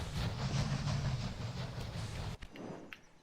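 A train in the Railway Empire game rumbles steadily with a rolling low drone and faint clatter, then cuts off abruptly near the end, leaving softer background game ambience.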